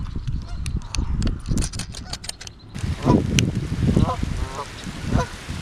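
Swans fighting on a pond, with loud repeated honking calls and splashy scuffling, mixed with excited voices of nearby people talking over the commotion.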